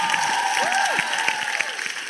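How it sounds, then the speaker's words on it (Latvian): Dense, steady crowd applause for a guest on a Latvian community radio hour, loud and continuous, with a whistle sweeping briefly above it. "vēlreiz aplausi"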